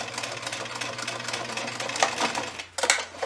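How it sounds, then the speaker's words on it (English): A sewing machine stitches slowly around a curve in felt for a reindeer gift bag, running as a steady, close mechanical whir with a short pause and a brief louder burst near the end. "just put them in your machine. And slowly stitch around that curve."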